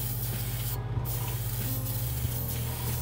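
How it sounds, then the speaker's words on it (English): Spray gun hissing steadily as it lays an even coat of orange paint, a continuous close airy spray with a low machine hum underneath, alone without talk. "we're going to just give it a nice even coat of orange"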